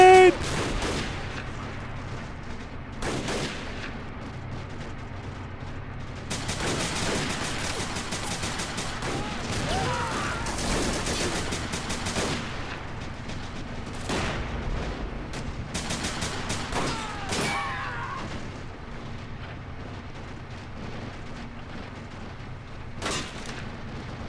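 Dense gunfire and explosions roll through a video game amphibious assault on a castle, with marines landing under heavy fire: sustained rifle and machine gun bursts, sharp cracks and booms, loud and continuous with no talk.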